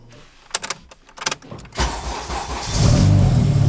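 A supercharged car engine with a Kraftwerks supercharger being started: a few sharp cranking clicks and bursts, then the engine catches and settles into a loud, steady close-up run.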